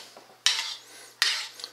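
A utensil stirs a gelatin mixture in a pot, two distinct scraping clinks against the pot with quieter swishing between, close and without talk.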